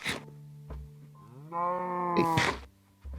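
Blocky Minecraft-style cows in a survival game moo in long, low, drawn-out calls, one after another, close and clear with brief clicks between them.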